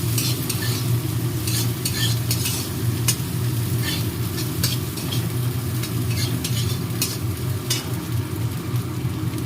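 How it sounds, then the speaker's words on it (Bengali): Cashews and raisins fry in a pan for offering food, giving a steady close sizzle with repeated scraping and stirring clicks throughout, no voices. "কাজু বাদাম কিশমিশ ভাজা ভাজা হয়ে গেল"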